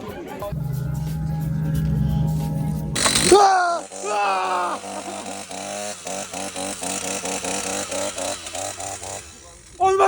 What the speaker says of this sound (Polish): piłę mechaniczną!